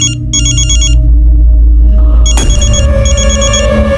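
A telephone bell rings loud and close in repeated bursts, with a steady electronic hum underneath.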